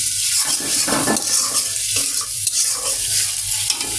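Taro and potatoes are stirred and fried in a pan for a curry with small shrimp. A loud, close sizzle runs throughout, broken by scraping stirring strokes.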